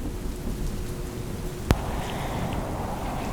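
Steady, dense rain falls throughout, with a brief sharp crack of thunder midway and a soft low rumble under the downpour.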